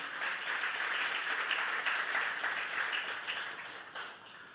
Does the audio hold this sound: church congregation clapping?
yes